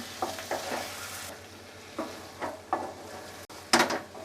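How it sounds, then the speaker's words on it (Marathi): Mutton being stirred with salt in a pan, several scraping, sizzling strokes in bursts with brief pauses between, close and moderately loud, no talking. "आता चांगलं एकजीव करून घेऊया."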